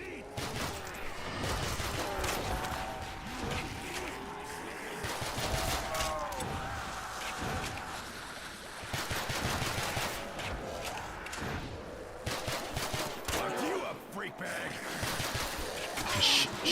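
Gunfire from a zombies video game, with repeated bursts and thuds running throughout under a busy game mix, and a person talking over the action.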